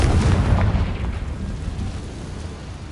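A Confringo fire spell explosion in the Hogwarts Legacy video game, a loud low booming burst right at the start that rumbles and fades into a lingering roar.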